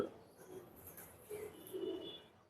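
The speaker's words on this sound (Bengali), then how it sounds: "কবুতরটা কিন্তু খুবই সুন্দর মাসাল্লাহ মাদি কবুতর" A female pigeon at a loft gives soft, faint coos against a quiet background, with a couple of low murmuring calls spread over a brief moment.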